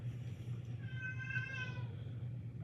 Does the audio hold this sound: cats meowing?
yes